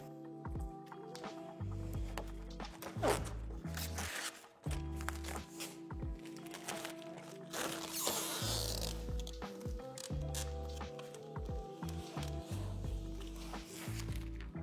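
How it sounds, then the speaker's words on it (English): Plastic film peels off a furniture backboard with a brief ripping rasp midway, surrounded by close handling clicks and low thumps. "Lay the system on its side and peel the plastic film from off the backboard."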